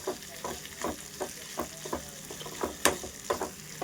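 Okra (bhindi) frying in a pan as a spatula stirs in a regular rhythm, each scrape cutting over a constant close sizzle, with no one speaking.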